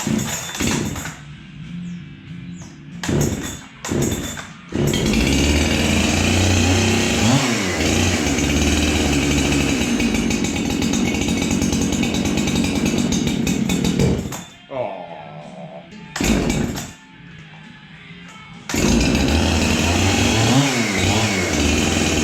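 A Husqvarna 372XP chainsaw revs and bogs as it cuts through wood, long sustained loud bursts of engine whine with brief drops to idle between cuts and short quieter gaps.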